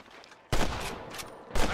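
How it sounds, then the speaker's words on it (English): Gunfire in the video game Red Dead Redemption, two loud bursts about a second apart that crack sharply, with a lingering noisy tail between them. "I can hear more gunshots."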